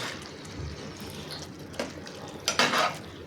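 A spinach and lentil curry is stirred and sautéed with salt in a pan: soft scraping and low frying noise, then a few sharper clinks of a utensil against the pan near the end.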